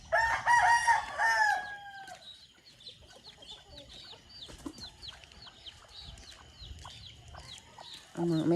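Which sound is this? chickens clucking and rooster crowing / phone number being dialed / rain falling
chickens clucking and rooster crowing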